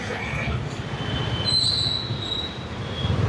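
A metro train rumbles past nearby beside a highway with a constant low roar and a thin, high wheel squeal rising in the middle.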